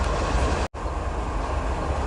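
Amtrak train 4, led by locomotives 189 and 55, rumbles past eastbound toward Chicago, a loud, steady wash of rail noise close by with one brief dropout.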